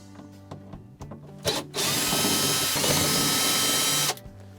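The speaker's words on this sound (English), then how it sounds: "Before we drop down the console assembly here, we are going to remove the two Phillips screws." A power drill or driver runs steadily for about two and a half seconds, removing the number 2 Phillips screws that hold a refrigerator's defrost control board, with brief clicks and handling before and after, close and loud.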